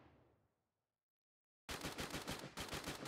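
Rapid automatic gunfire from a shooter video game bursts in loud and close after a fading tail and a moment of silence, with fast repeated shots.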